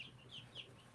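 A hen gives soft, faint repeated clucks and brief chirpy calls close by, in a quiet backyard setting, with no talking over them.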